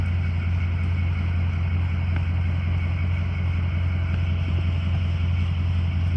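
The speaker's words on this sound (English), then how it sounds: "Truck sounds great. We've had it running for about an hour." A 2004 Ford E-450 box truck's engine idles steadily with a low, even rumble that stays constant throughout, close by and without any revving.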